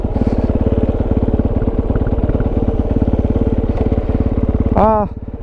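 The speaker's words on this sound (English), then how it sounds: "More powerful thump coming out of that exhaust than I had with my 650" A Kove 450 motorcycle fitted with a Dominator exhaust runs close by with a loud, rapid, steady thumping beat, then a brief rising rev near the end before settling back.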